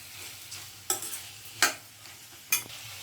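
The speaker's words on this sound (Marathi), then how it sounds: "आपला शेंगा बटाटा परतून होतोय" Green beans and potatoes sautéing in a pan for a Maharashtrian shenga-batata bhaji, with a low sizzle broken by three sharp spoon scrapes at roughly even intervals, close and quiet, no voices.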